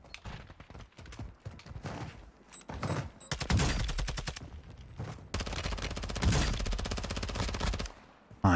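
Rapid bursts of video game gunfire crackle in dense automatic volleys, loud and close, with short gaps between long sustained stretches of shooting.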